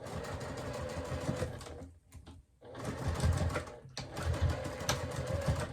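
Sewing machine stitching a seam on a zippered fabric clutch purse, a steady fast whirring run that pauses briefly twice, loud and close with no talk.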